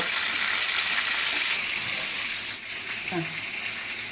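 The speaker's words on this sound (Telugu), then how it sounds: "ఉల్లిపాయ వేసి పచ్చిమిరకాయలు, ఉల్లిపాయ." Onion and green chillies fry in a pan with a steady, close, bright sizzling hiss that fades slightly toward the end, with faint kitchen clatter.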